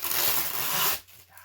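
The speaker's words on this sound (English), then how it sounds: "I'm gonna try to cut through tape." Scissors snipping through tape in a quiet late-night room: a dense, bright rasping cut lasting about a second, then stopping abruptly into near silence.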